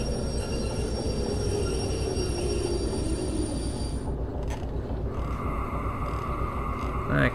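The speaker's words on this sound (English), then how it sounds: "Hit the train brake." A train braking in the Derail Valley simulation game gives a continuous heavy rumble of wheels and carriages. Thin metallic squeals and clanks rise near the end.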